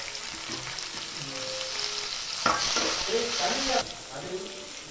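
Green chillies and tomato fry in a pan, giving a continuous sizzle with stirring, which swells louder for a second or so midway before settling again. Faint voices are heard underneath.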